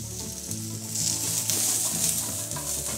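Chopped garlic sautéing in oil in a frying pan for a stir-fried vegetable dish: a bright, continuous sizzle with stirring scrapes, steady and close, with a low hum underneath.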